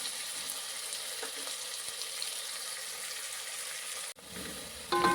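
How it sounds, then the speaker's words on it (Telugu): Eggplant pieces frying in oil in a pan for a stuffed brinjal curry give a steady, even sizzle that breaks briefly near the end before returning slightly louder. "కొంచెం ఎర్రగా వేగాలండి."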